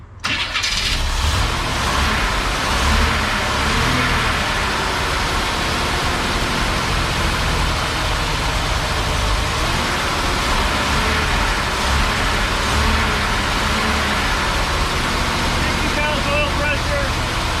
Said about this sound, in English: Alright, well, crank the idle up a little.